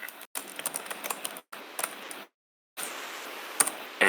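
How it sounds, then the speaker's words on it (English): A command is typed on a computer keyboard as quick bursts of close, crisp key clicks, separated by short silent gaps and a longer pause. "I could also type a command this way"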